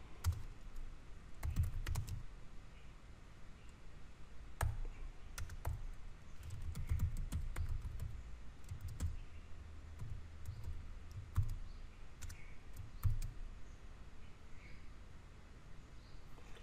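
Sparse, quiet keystrokes on a computer keyboard as code is typed, with irregular clusters of light clicks separated by short pauses and no voices.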